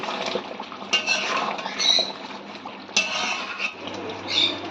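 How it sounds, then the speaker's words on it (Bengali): A spoon scrapes and clanks against the pan while chicken is stirred and fried for Mughlai chicken, uneven metallic strokes over a soft background fizz, close by with no one talking. "এবার ভালো করে চিকেনটাকে মিক্স করে নেব এবং ভালো করে কষিয়ে নেব।"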